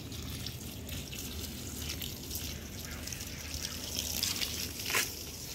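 Water runs steadily in a faint, continuous trickle and splash while plants are watered in a home garden, with a slightly louder splashing swell near the end and no speech.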